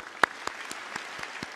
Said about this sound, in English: Give yourselves a big clap for that.